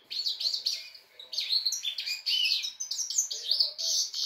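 Birds outside a house give a busy run of high, quick chirps and tweets in overlapping bursts, fairly close and clear, with no talking.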